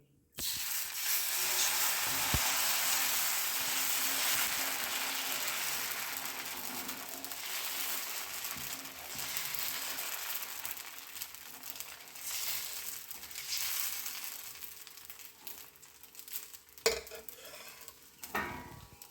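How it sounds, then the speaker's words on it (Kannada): Raw banana dosa batter hissing steadily on a hot pan, a loud continuous close sizzle that fades slightly toward the end, broken by a few clinks of utensils near the finish. "ಹಿಟ್ಟನ್ನು ಚೆನ್ನಾಗಿ ಮಿಕ್ಸ್ ಮಾಡಿಕೊಂಡು ದೋಸೆ ಹೊಯ್ಯುವ."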